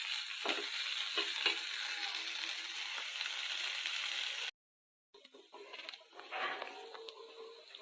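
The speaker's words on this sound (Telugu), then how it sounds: "మన గోరు చిక్కుళ్ళ పీసెస్ ఏ విధంగా చక్కగా ఫ్రై అయ్యాయండి" Cluster bean pieces frying in a pan, a continuous bright sizzle with occasional stirring scrapes, cut by a brief gap of silence before the sizzle resumes quieter.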